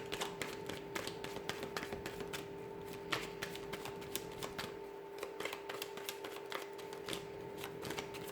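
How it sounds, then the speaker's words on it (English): Tarot cards being shuffled by hand, with quick repeated papery riffles and taps in a steady run, close and quiet over a faint constant hum. "So I'm going to give the cards a shuffle here"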